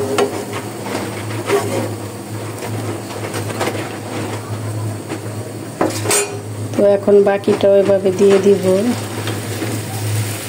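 Potato sticks for crispy french fries go into a hot pan of oil. Loud frying and sizzling run throughout, with clattering utensils and metal scrapes against the pan, and a voice speaks briefly in the middle.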